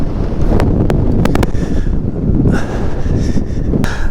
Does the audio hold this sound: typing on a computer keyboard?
no